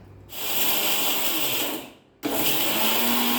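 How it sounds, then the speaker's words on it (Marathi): A mixer grinder blends roasted cumin, fennel, cardamom and peppercorns with chaat masala, rock salt and half a cup of sugar, running as a loud steady whirring grind, dropping out briefly near two seconds before roaring back. "मिक्सरमधून बारीक करून घेतलं"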